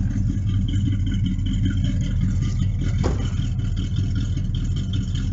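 A 1979 Chevrolet Camaro Sport Coupé idles at the rear exhaust, a deep, steady, loping rumble with a fast rhythmic pulse, close and loud, with a brief mechanical clatter midway.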